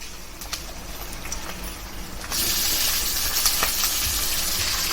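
Hot oil sizzles quietly, then bursts into a loud, steady crackling sizzle as chicken hits the pan with curry leaves and keeps frying.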